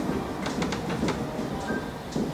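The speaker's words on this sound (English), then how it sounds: "Where's this train going?" Rhythmic clacking of a train riding over rail joints, with metallic rattles and a steady low rumble throughout, heard from inside the moving car.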